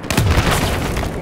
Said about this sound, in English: Would be a cruise missile.